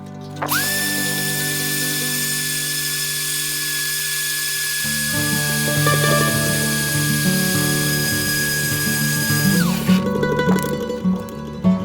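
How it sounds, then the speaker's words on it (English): A high-pitched power sander whines steadily, joined midway by grinding, scraping contact noise as it sands a Kydex knife sheath, then winds down near the end. "So I'm just gonna do some final sanding on it."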